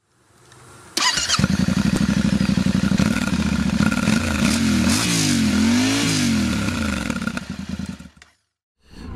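A Yamaha Ténéré 700 World Raid motorcycle engine starts abruptly, settles into a loud, close idle, then rises and falls through several revs before cutting off near the end.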